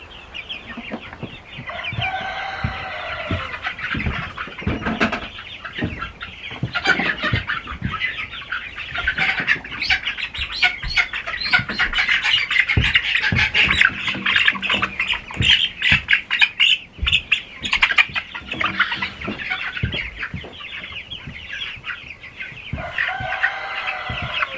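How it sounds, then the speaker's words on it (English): Barred Rock laying hens on a Maine farm cluck and squawk steadily and fairly close, a busy overlapping flock chorus that rises through the middle and continues without any voices. "These layers are a barred rock breed."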